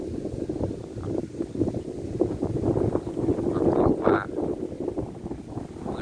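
Gusty wind sweeps across open country under darkening skies before a rainstorm in Chum Phae, a steady rushing roar with a louder surge near the end, while someone talks over it.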